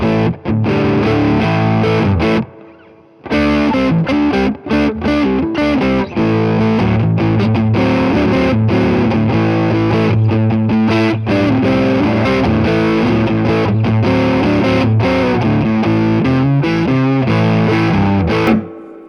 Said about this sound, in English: You might like that one better than the other one with distortion